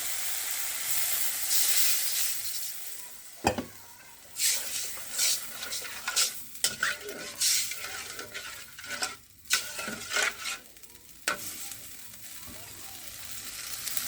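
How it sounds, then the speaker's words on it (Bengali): Water poured into a frying mustard spice paste for hilsa: a constant bubbling sizzle broken by sharp spoon knocks and scraping stirs, close and fairly loud. "এখন আমি এর মধ্যে পরিমাণ মতন পানিটা দিয়ে দিব।"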